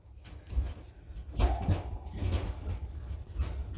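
Dogs indoors barking and whimpering during a diamond-painting craft session, giving a few low, muffled yelps and whines close by with bumps and rustles in the room.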